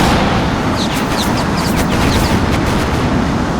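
A weapon striking a ground target in Tom Clancy's HAWX, heard as a dense, loud roar of blasts with crackling impacts and scattered bursts layered over steady jet and battle noise.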